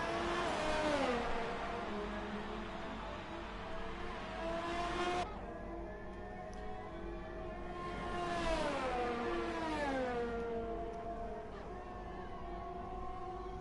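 A race car engine in a racing video game revs high on pit exit to warm the tyres, whining pitch sweeps rising and falling in repeated surges, steady and moderately loud with no talk.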